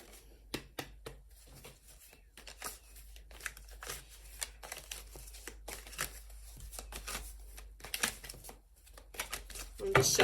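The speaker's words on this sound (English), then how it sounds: "I'm just shuffling for you." Tarot cards are riffled and shuffled by hand, giving a run of quick papery snaps and flutters at close range, with a short louder burst near the end.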